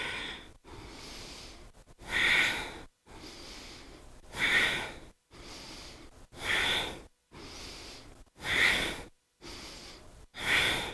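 Rapid yoga breathing in a gentle stress-relief session: sharp, forceful inhales and exhales alternate in a steady, quickening rhythm, close and breathy, with brief pauses between breaths.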